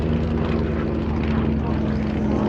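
Avro Tutor biplane with a 240 horsepower Armstrong Siddeley Lynx engine at an air show, a loud steady propeller drone with a constant engine hum throughout, under faint background voices.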